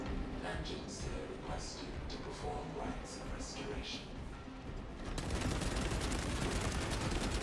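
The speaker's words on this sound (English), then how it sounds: "your heavy bolter rounds are flying out" Heavy bolter fire in a space-set video game plays as dense, continuous rapid gunfire over a steady roar, growing louder and more intense near the end, with a voice talking over the first part.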